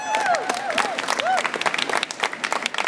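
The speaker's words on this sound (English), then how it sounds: "Let's give her a round of applause." An audience at a wedding show welcomes a guest onto the stage with lively clapping and a few whoops, crisp individual claps building into a steady round.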